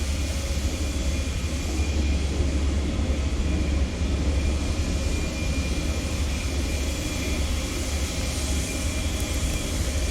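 Steady, even jet engine roar of an Embraer E190 airliner in a flight simulator game, a continuous broadband hum and whine with no talk.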